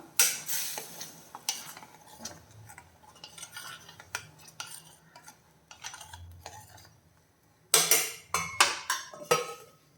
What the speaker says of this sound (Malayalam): തുറന്നു നോക്കിയിട്ടൊന്ന് ഇളക്കി കൊടുക്കാം